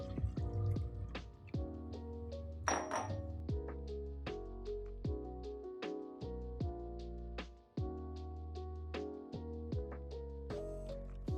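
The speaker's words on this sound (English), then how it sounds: "Let's pour the milk here." About 500 millilitres of milk for a creamy milkshake are poured into a container at home, a faint liquid trickle broken by a rapid string of drips and small splashes, heard alone without talk.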